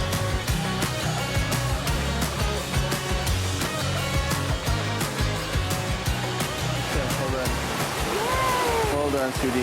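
Rushing water from the tallest waterfall in Zimbabwe forms a loud, steady roar that fills the whole stretch, with tonal voices or music layered over it.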